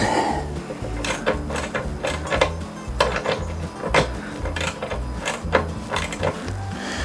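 Repeated metallic clicking and tapping as a wrench tightens the nut, washer and lock washer on the rear brake hardware of a 1964 Honda 90 CT200, in a steady, close rhythm over a low hum.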